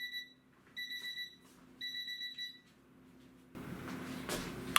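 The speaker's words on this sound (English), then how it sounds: "there goes the buzzer" An oven timer buzzer in a kitchen sounds three bursts of high electronic beeping, each about half a second long with short gaps, followed by a louder stretch of rustling background noise.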